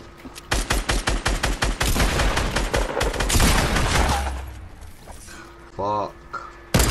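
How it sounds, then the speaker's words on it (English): Rapid video game gunfire rattles out in dense bursts of shots, loud and close, followed by a brief whooshing effect and scattered clatter as a player speaks over it. "I'm gonna try to shoot."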